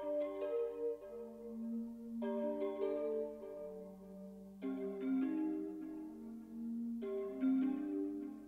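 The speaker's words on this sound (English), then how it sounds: "And then lastly, I added this bell and accent that I downsampled to 8K," Downsampled bell sample with an accent layer and flanger rings out in soft chiming phrases over a low sustained drone, each cluster of bell tones decaying before the next enters, quiet and lo-fi.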